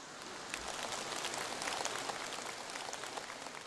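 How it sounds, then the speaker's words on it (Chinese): An audience at a Buddhist dharma talk at a Hong Kong gathering applauding, a dense steady wash of clapping from many hands that holds evenly for several seconds. "鼓掌鼓得很热烈"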